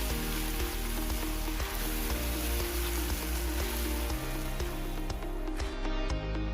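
Green chilli and garlic frying in a pan for bhindi masala, a soft, steady sizzle with faint crackles and occasional clinks, heard close and fairly quiet with no talking.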